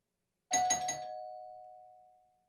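A doorbell in the video game The Silver Case chimes once in a quick few-note ding pattern, then its single tone lingers and fades slowly in otherwise quiet surroundings.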